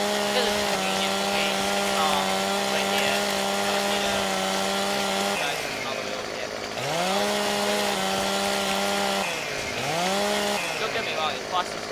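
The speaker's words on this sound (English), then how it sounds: "Be wondering why I'm using the chainsaw to do that." Video-game chainsaw from Farming Simulator 15 cutting logs: a loud, sustained buzzing drone that dips and revs back up several times as cuts bog down, with a voice talking faintly beneath.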